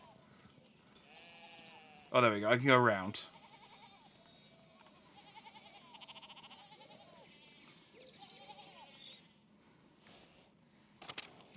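Sheep in the video game Pentiment bleat in a series of wavering calls across the scene while someone speaks briefly over them, his voice rising loudly for a moment before the bleats carry on at moderate level.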